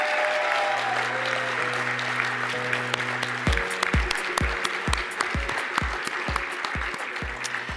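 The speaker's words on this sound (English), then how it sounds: "let's have one last round of applause for all of our Circle honorees tonight" Audience applause honors the Gold and Silver Circle recipients at an Emmy awards gala. Steady dense clapping fills the room throughout, with a low musical tone under the first half, then rhythmic low thumps joining.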